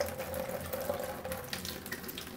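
Tap water runs steadily into a sink, rinsing a makeup brush against a cleaning glove, a continuous gentle splashing with faint scrubbing shifts in the flow.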